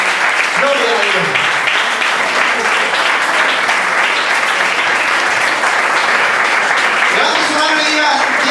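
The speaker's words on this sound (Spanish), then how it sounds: "¿Cuánto le dan un aplauso al Señor?" A church congregation claps and cheers loudly in praise during a Spanish-language worship service, dense continuous applause lasting several seconds, with voices calling out over it near the start and end.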